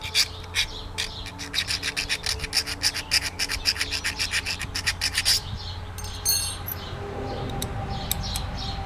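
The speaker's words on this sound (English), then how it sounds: "I'm going to keep filing until I don't see that bump there that was interfering." A small tapered hand file rasps inside a hole on a Wheel Horse Model 401 throttle part, a quick run of close, rhythmic strokes for about five seconds, then quieter scraping and light rustling.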